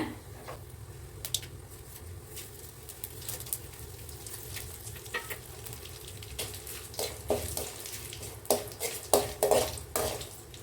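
Poppy seeds, fennel and cinnamon dry-roast in a pan for a mutton curry while a spatula stirs and scrapes, giving soft rattling and clinks. Sharper metallic knocks grow more frequent toward the end, and no one speaks.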